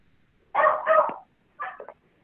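A dog barks twice over an online meeting call, a close, sharp double bark followed after a short pause by a smaller, clipped bark against near silence.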